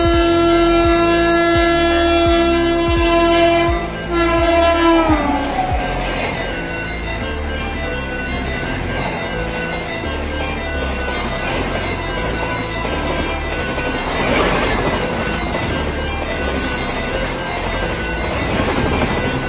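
An Indian express train passes a railway crossing, its horn blaring with a loud sustained tone at first, then giving way to the steady heavy rumble and clatter of carriages rolling close by.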